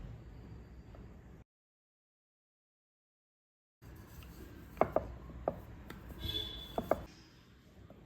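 Rolled methi puri dough is pricked all over, giving faint, quiet tapping and pecking sounds in an irregular series after a stretch of silence.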